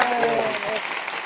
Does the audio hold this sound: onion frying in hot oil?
no